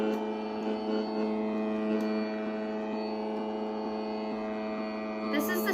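Steady buzzing radio interference hum from a switched-on calculator held near a radio in a homemade metal detector setup, a continuous tonal drone with faint rasp that holds level throughout, alone without talk.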